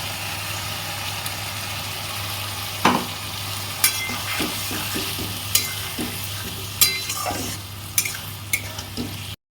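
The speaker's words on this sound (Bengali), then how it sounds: "কষে নিচ্ছি ভালো করে।" Mustard and poppy seed paste being sautéed in a pan for a light fish curry, with a steady low sizzle, a few scraping stirs and utensil clinks.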